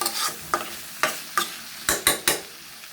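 Khichuri of rice and lentils being stirred in a sizzling pan, a steady fry broken by about seven rhythmic spoon scrapes, close and fairly clear.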